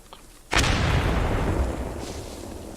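A loud grenade explosion in the World War II shooter Post Scriptum: a sharp, close blast bursts out of near silence, then a long rumbling roar slowly fades.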